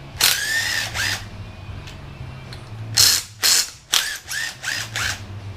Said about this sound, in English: where you need a ratchet